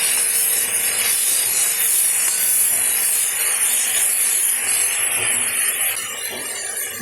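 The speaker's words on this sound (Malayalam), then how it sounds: "ഇനി ഇതിലേക്ക് നേരത്തെ ചതച്ച് വെച്ചിരിക്കുന്ന ചെറിയുള്ളി, പച്ചമുളക്, ഇഞ്ചി, വെളുത്തുള്ളിയൊക്കെ ചേർക്കുക. എന്നിട്ട് നന്നായി വഴറ്റുക." Crushed shallots, green chilli, ginger and garlic sauté in coconut oil for a squid fry, a steady broadband hiss with scraping, rubbing texture throughout, fairly loud and close, with no voices.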